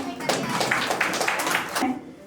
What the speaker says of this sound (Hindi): तो एक बार फिर से जोरदार तालियां हो जाए